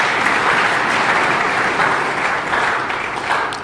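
A church congregation bursts into loud, sustained applause, dense clapping filling the room evenly for a few seconds before starting to fade, with no clear speech over it.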